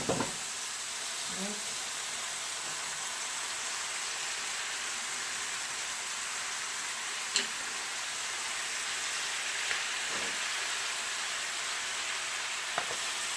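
Beef sizzles and fries in a pan with browned vegetables for beef stroganoff, a steady broad hiss throughout with occasional faint stirring clinks; a voice briefly speaks near the start.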